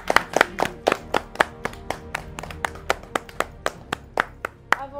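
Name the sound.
people clapping hands for the contestants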